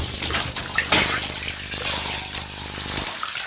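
Water splashes and runs from a tap during washing in a domestic setting, a steady wet stream with a louder splash near the middle, stopping abruptly toward the end.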